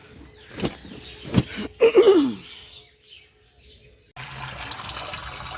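Water gushes from a tap fitted to a tube well outdoors, a steady rushing stream that starts abruptly near the end after a few scattered knocks, a brief throaty sound and a bird-like chirp.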